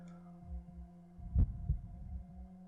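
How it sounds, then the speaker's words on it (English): Heartbeat sound effect in the Chaos;Child visual novel game, low thudding beats over a steady electronic hum, with a stronger double thump in the middle, no voices. "My heart beat louder."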